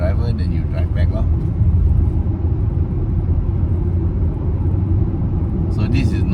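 A Volkswagen Touareg cruising on the highway, a steady loud road and engine rumble inside the cabin that continues unchanged throughout.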